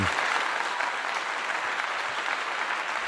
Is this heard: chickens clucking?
no